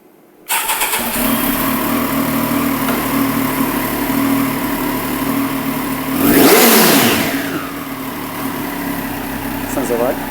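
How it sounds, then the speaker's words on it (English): A Triumph Daytona Moto2 765 motorcycle engine fires up and settles into a rumbling idle, then the exhaust revs sharply once before dropping back to a steady idle. "Would you mind if we heard the bike started up so we can just hear that exhaust?"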